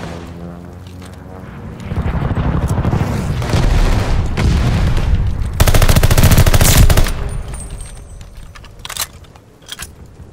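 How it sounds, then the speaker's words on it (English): Allied airstrike explosions in Call of Duty: Vanguard on a Berlin map in ranked Control mode: a loud, sustained rumble of blasts and rattling gunfire building for several seconds, then fading to scattered sharp cracks. "Allied airstrike coming in hot."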